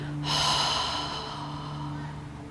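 A yoga student exhales forcefully with an open-mouthed "ha" while sinking into a wide stance with toes and knees turned out, a single breathy release that trails off softly.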